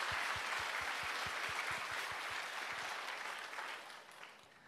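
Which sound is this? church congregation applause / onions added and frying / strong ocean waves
church congregation applause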